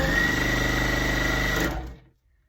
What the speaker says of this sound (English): I really want to get it sewn up quick. So that's why I'm chain piecing.